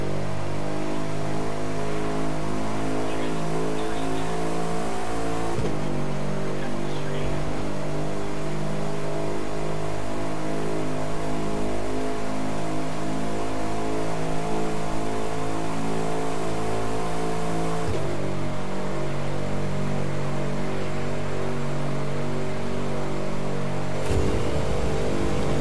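Hypercar racing engines in the video game The Crew 2: a loud, continuous high-revving engine drone, near and unbroken, with two abrupt shifts in pitch as the engine climbs through gears, and no talking.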